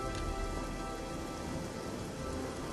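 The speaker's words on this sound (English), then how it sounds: "Rainy day." Steady rain pours down in the game Oblivion, a dense, even hiss of falling drops that stays loud and constant, with no voices heard.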